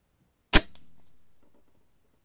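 A single sharp shot from a locally made WCO PCP air rifle firing a pellet on a freshly refilled tank, loud and close, with a brief crack followed by a short decaying ring, then quiet.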